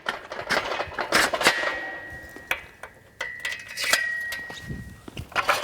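Archery bow limb posts from a Mathews MAX arm are set into metal tool supports, giving a series of sharp metallic clicks and knocks with short quiet gaps between them.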